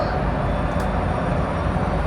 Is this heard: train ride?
yes